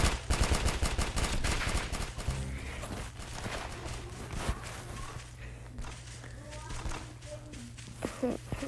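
Pistol gunfire from dual pistols in the Roblox game Arsenal, a rapid burst of sharp shots in the first two seconds followed by scattered game sounds and a steady low hum.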